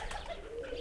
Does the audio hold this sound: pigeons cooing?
yes